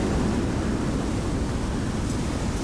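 A steady wash of sea surf fills the space, a dense, even roar with no distinct wave crashes and no one talking.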